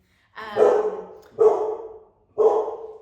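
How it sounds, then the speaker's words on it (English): Three loud, drawn-out dog barks spaced about a second apart, close to the listener, with short silences between them. "barking."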